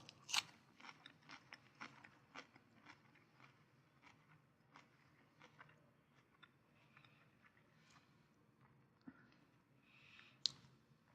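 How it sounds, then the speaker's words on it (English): Raw radicchio is chewed close up, giving a run of crisp, crunchy bites that soften into quieter, wetter chewing, with a couple of sharp clicks and no talking. "Take a little piece of this radicchio and just chew it up."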